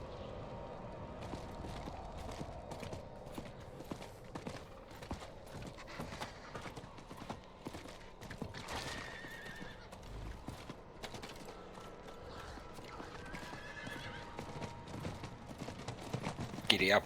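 Hooves clip-clopping steadily from a horse mount in the video game Diablo IV, with a whinny partway through, under people talking.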